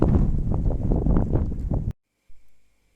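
Strong gusty wind buffets the microphone with low rumbling for about two seconds, then cuts out, leaving near silence and a soft thump.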